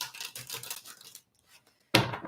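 Tarot cards being shuffled during a live psychic reading: a run of dense papery riffling and scraping, a short pause, then a sharp, louder burst of card shuffling up close.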